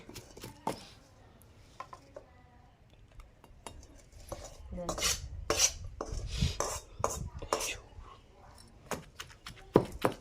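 Mint chutney with fried tomato and fenugreek is pounded by hand, giving irregular thuds and clinks of the pestle against the mortar, moderately close, with quieter gaps between strikes.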